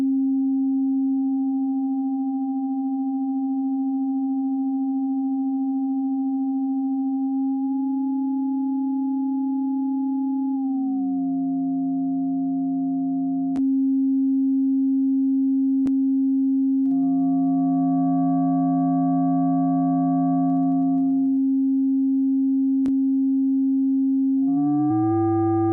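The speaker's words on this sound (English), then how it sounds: "I activate the sine wave generator and, at last, oscillator 2 modulates oscillator 1" A pure synthesizer sine tone holds steady, then bends and shifts as a second oscillator begins modulating the first, adding buzzy sideband tones in bursts. A few sharp clicks punctuate the electronic sound, and no voice is heard.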